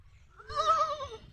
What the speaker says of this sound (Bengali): ছাগলের বাচ্চা কি সুন্দর ডাকিচ্ছে।